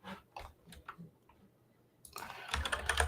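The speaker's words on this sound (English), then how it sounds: "You can probably hear me typing away." Clicks from a computer keyboard come as scattered, light taps at first, then a pause, then a denser, louder burst of rapid typing close by.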